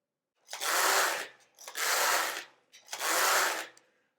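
A Passap Duomatic 80 knitting machine knits rows on a cabled baby sweater, with the carriage making three separate loud, close rasping sweeps, each about a second long, with short pauses between them.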